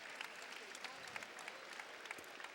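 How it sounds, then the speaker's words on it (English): A crowd at a high school basketball game applauds faintly and steadily from a distance, with a voice talking over the clapping. "Nice round of applause"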